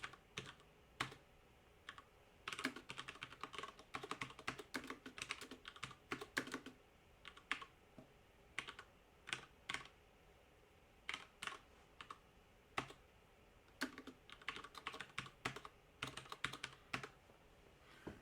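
Code is typed on a computer keyboard in quick irregular bursts of crisp close key clicks, separated by short pauses, with no talking.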